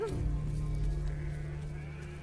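A farm goat, one of a herd of livestock, gives a single drawn-out bleat that carries over a low steady hum, close and fairly loud, lasting about two seconds.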